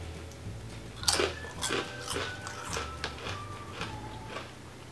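A smoked jalapeno vegan chip made with fermented cabbage, similar to a tortilla chip, is bitten and chewed close up in a series of crisp crunches.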